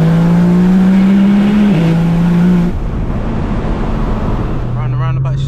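A 2000 HP Nissan GT-R engine holds a loud steady rev in a tunnel, then drops off into rough pop-and-bang crackling, and settles back to a lower drone with speech faintly underneath.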